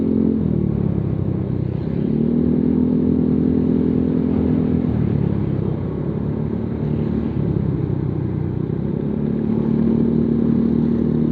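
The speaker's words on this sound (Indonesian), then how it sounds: "knalpot Proliner Neo Silent ini untuk di Aerox 155" Yamaha Aerox 155 scooter fitted with a Proliner Neo Silent exhaust, riding slowly through a narrow alley: a steady, muffled low engine drone with slight pitch shifts as the throttle changes, close and continuous, with no talk.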